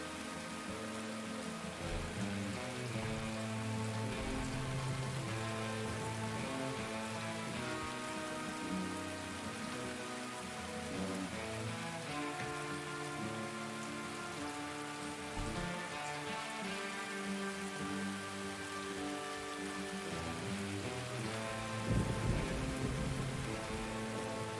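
Steady rain falls in Escape from Tarkov, a continuous even patter on surfaces that runs the whole time, with a game soundtrack of musical tones layered over it.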